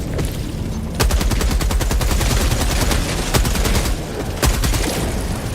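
Gatling Sentry gunfire in Helldivers 2: loud, sustained rapid-fire bursts with a steady rattling rhythm and occasional heavier booms, running nearly continuously throughout.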